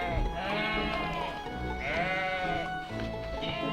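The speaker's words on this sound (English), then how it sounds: "There's black sheep free roaming around the island. Quite funny to hear them." Several black sheep roaming free on an island bleat close by in wavering, overlapping cries, one call following another without pause.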